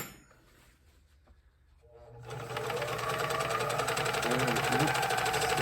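A serger sewing machine runs steadily while stitching along the edge of a cross-over apron, starting after a quiet pause with a fast, continuous mechanical whir that stays loud and close to the end.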